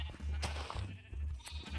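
Sheep bleating in Minecraft, several short blocky bleats overlapping in quick succession, fairly close and loud, with no talk over them.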